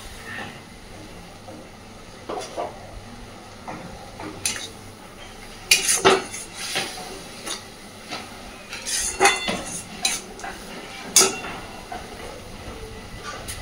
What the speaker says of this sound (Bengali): মিক্সির বাটিটা ধুয়ে দিচ্ছি সামান্য একটু জল